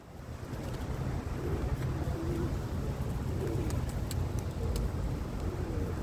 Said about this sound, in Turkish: Güvercinlerimizle, kuşlarımızla.